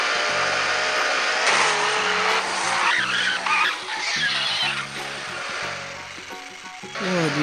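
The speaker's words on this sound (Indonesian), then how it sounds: "mobil balap yang di depan" In an animated Upin & Ipin race scene, a cartoon race car skids with long, shrill tire squeals that rise and fall over a continuous, loud whine.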